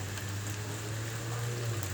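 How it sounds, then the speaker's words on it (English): Freezing rain and hail fall during a December thunderstorm in Connecticut, a steady, even patter of drops and pellets on surfaces over a low constant hum, moderately faint and without a break. "That's like freezing rain and hail."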